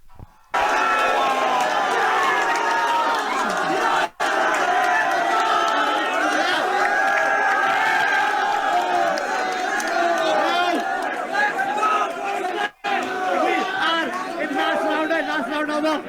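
A crowd at a rap battle cheering and shouting loudly and continuously, a dense roar of many voices with two sudden cuts.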